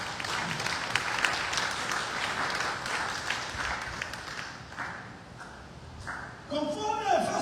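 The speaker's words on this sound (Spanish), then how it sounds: "Dame un aplauso a él." A church congregation claps and applauds, a broad, dense wash of hand claps that fades toward the end, with a voice cutting in at the close.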